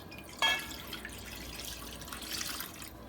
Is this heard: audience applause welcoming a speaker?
no